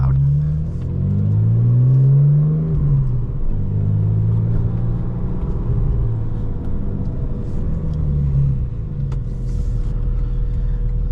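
2023 Porsche Boxster GTS with a 4.0 engine, manual gearbox and sports exhaust, revving loud and close inside the cabin, a deep rumbling pull that climbs then settles into a steady drone.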